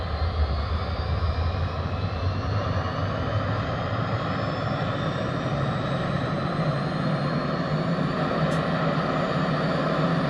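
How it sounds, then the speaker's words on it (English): A gas turbine starter on a T-45C Goshawk jet trainer in a flight sim spools up, a steady loud whine and rumble holding even throughout with a faint rising tone. "hold down the gas turbine starter start button"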